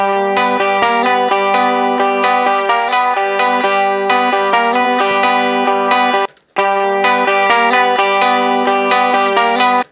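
Bright, jangly twelve-string guitar chords strummed continuously through chorus and distortion effects, loud and dense, with a brief break near the end.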